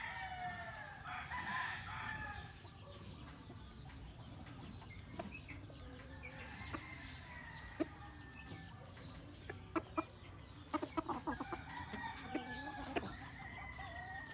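Roundhead and Boston Roundhead gamefowl roosters crow and cluck around a farm, several birds calling at moderate distance, with scattered sharper clucks and clatters toward the end.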